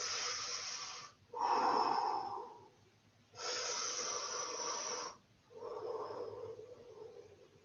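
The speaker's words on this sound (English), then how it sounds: "but I'm breathing." Heavy breathing during gentle exercise, with four long, loud breaths that alternate between forceful inhales and exhales. Each has a hissing, wheezy edge, is separated by short pauses and sounds close to the microphone.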